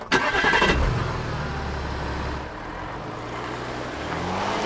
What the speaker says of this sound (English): The limo departed for Javier's home